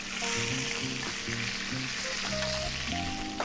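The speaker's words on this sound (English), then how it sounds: "All right, we got those scallops searing." Scallops sear and sizzle in a hot pan with a steady, close frying hiss, continuous throughout, with faint clinks in the background.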